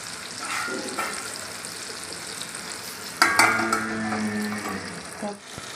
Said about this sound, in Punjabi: ਜਿੰਨਾ ਚਿਰ ਇਹ ਤੋਂ ਛਿਲਕਾ ਨਹੀਂ ਨਾ ਉਤਰਦਾ ਉਹਨਾਂ ਚਿਰ ਇਹਨੂੰ ਭੁੰਨਣਾ ਹੈ